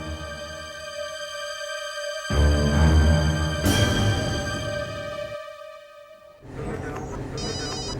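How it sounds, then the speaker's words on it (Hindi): An incoming call makes a phone ring repeatedly with a tonal, electronic ringtone, close and fairly loud, with short gaps between bursts of ringing. "मुझे कौन फोन कर रहा है?"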